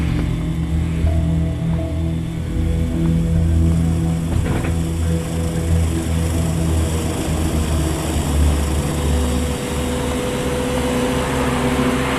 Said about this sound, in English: Within hours, the Australians board a US Army Hercules.